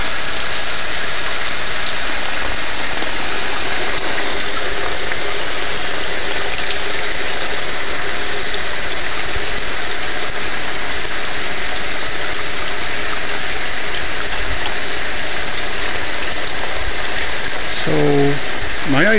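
A pump pushes water through a homemade 2-liter bottle fluidized filter, producing a loud, steady rushing and splashing wash that continues unbroken throughout.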